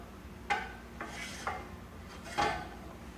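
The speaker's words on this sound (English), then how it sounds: "as you stir, you want to scrape around the edge of the pan" A spoon scraping around the edge of a pan while stirring scrambled eggs, giving four separate scrapes about a second apart, moderately loud and close, with a low steady background hum.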